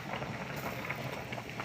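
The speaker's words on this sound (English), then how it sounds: "My soup is really bubbling over here" Curried sweet potato and carrot soup bubbles steadily in a pot on the stove, a continuous soft simmering fizz with small pops, heard alone at low level.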